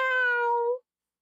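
A person mimics a cat's meow with a single clear, drawn-out vocal meow, close and alone, lasting under a second before abrupt silence.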